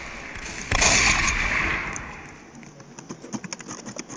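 Gunfire in the Roblox game Prison Life: a loud burst of shots near the start, then a run of quicker, lighter pops and clicks trailing off toward the end.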